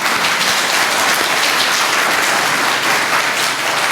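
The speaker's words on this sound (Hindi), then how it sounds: "आप लोग गुरु माँ से सहमत हैं तो जोर से ताली बजाइए" Loud, dense audience applause at a Hindi spiritual discourse on Sanatan Dharma, a sustained roar of many hands clapping close by, steady throughout without a break.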